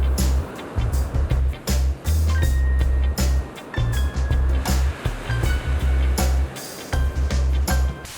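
Ocean surf at an oceanside rest spot on Kwajalein, a continuous rolling wash of waves under gusty wind rumble, with a faint engine-like drone and intermittent sharp ticks nearby.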